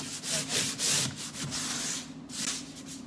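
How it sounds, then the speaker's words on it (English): Dixie mud filler being smoothed across a wall panel, heard as close, repeated scraping and rubbing strokes in a steady rhythm with short pauses between passes. "I'm just smoothing out the dixie mud now."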